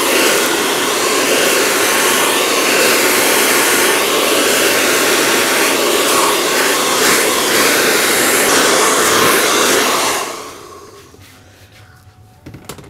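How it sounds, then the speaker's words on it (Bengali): A hair dryer roars loudly and steadily while blow-drying hair during a fade haircut with clippers, running without a break for about ten seconds before switching off, leaving quiet handling noises. "দেখলে আমরা ড্রায়ার করলাম।"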